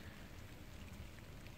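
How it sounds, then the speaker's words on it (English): Rain falling on a riverbank while fishing, a faint, steady hiss of drops with no other sounds. "But it is raining, so I am going to get out of here."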